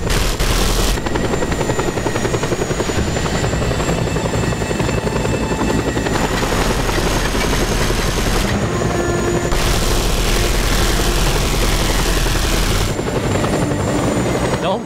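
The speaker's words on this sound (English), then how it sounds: "More than one chopper?" A helicopter in the video game Just Cause 2 gives a loud, continuous rotor thump and engine drone close up, holding steady for about fifteen seconds.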